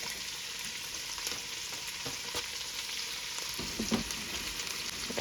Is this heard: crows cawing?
no